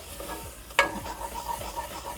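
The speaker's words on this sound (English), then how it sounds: "a tablespoon of garlic because I want to cook the raw out of the garlic." Tablespoon of garlic sizzling and stirred in a hot pan, with a sharp scrape as the utensil moves, then steady frying hiss and soft stirring strokes continuing close up.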